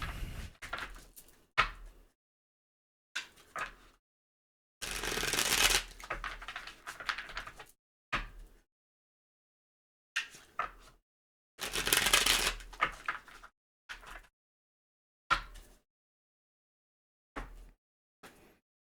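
Tarot cards are shuffled in short, intermittent bursts, soft papery riffles and flicks close by separated by silent pauses, with two longer, louder shuffles.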